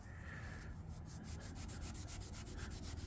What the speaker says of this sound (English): You just rub it until you can feel it with your finger, the paint going away, or the overspray going away.